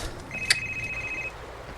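A phone chimes with an incoming call: a single bright electronic tone holds for about a second over a faint indoor background, with no one speaking.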